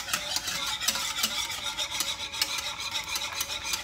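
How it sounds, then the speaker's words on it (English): A spoon scrapes and stirs creamy Puerto Rican coquito mixture in a pot on a stovetop over low-to-medium heat, making steady, rhythmic rasping strokes that sound close and continuous. "And you gotta stir, you cannot stop stirring."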